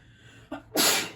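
A single sharp human sneeze close by, with a short inhale just before it, then a loud burst that fades out, on a quiet indoor knitting podcast.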